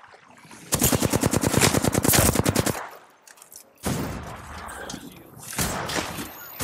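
Automatic gunfire in the video game Apex Legends, a loud rapid burst of evenly spaced shots followed by further scattered shooting and impacts.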